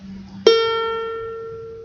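A single ukulele string plucked with a finger rings out clearly and close, one bright note with rich overtones that sustains and slowly fades, preceded by a faint low hum.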